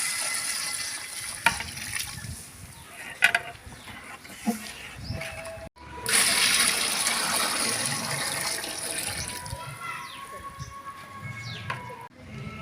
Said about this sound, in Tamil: இதுலேயே ஒரு பங்குக்கு ரெண்டு பங்கு தண்ணி சேர்த்துக்கலாம்